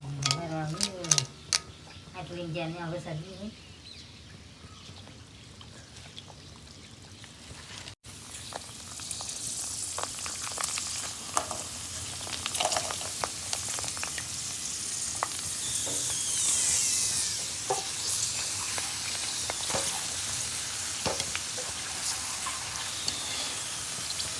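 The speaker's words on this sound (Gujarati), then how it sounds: "હવે આપણે તળી નાખીએ પૂરીઓ" Puris for panipuri deep-fry in hot oil, with a continuous bubbling sizzle that grows louder and fuller over time, along with scattered small crackles; brief voices and other noises come before the frying starts.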